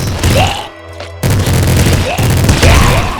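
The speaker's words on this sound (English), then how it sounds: "I'm gonna go through all my ammo for my minigun right now." A minigun in the top-down shooter Nuclear Throne rattles out dense, loud continuous fire, broken by one brief gap before the barrage resumes, layered with in-game blasts.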